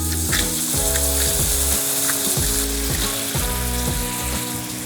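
An artichoke sauce with lemon juice and saffron sizzles steadily in a pan, a loud and continuous close frying hiss under rhythmic background music.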